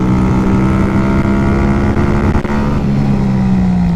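Masai Greystone 125 motorcycle engine pulling hard under acceleration, a loud close drone with a steady pitch that rises and then settles, heard alone without talk.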